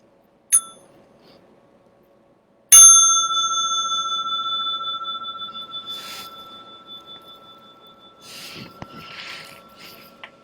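A small meditation bell is struck once softly, then rung again clearly, its bright tone ringing out and slowly fading over several seconds.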